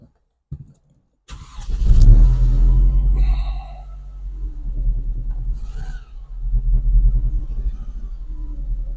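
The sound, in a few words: car engine idling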